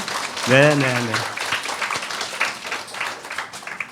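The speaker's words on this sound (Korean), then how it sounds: "뜨거운 박수로 환영하겠습니다" A church congregation claps to welcome first-time visitors, the applause rising after a man's brief spoken affirmation and carrying on as a dense, even patter.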